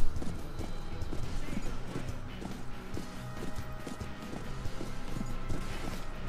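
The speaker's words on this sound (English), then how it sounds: "I got a horse, and I'm not afraid to use it." Horse hooves clip-clop in the western video game Call of Juarez: Bound in Blood, a steady, close rhythmic clatter of hoofbeats running throughout, with game noise and a voice speaking over it.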